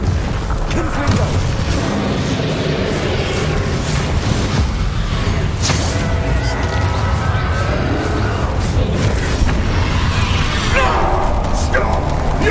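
Confringo spell blasts from the Hogwarts Legacy video game: heavy booming explosions and crashing impacts rumble continuously amid dense battle noise, with voices shouting over the chaos.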